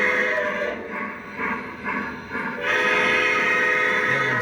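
A model train's steam whistle sounds with a hissing, breathy tone over rumbling, then holds a steady shrill note for the last couple of seconds.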